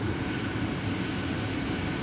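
Jet airliners, two Airbus A220s and a Boeing 737, roll past in front of the listener at MSP airport, a steady broadband engine roar holding loud and even throughout with no talk.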